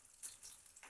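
Chopped garlic and shallots sizzling in hot oil in a pan as they are stirred, a soft continuous frying hiss with faint scraping, brief and quiet.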